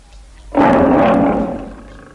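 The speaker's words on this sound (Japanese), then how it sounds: "ライオンがいます。" A single deep, powerful lion roar bursts out after a brief silence, loud and close, then slowly fades away.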